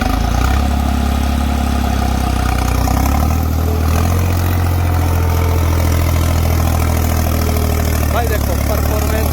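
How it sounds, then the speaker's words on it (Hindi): A tractor engine labours hard while pulling a subsoiler through a field, a loud continuous low-pitched drone that deepens and steadies after a few seconds, with voices faintly present beneath the roar. "असलियत का पता अब चलेगा क्या रेस्पॉन्स देता है ट्रैक्टर"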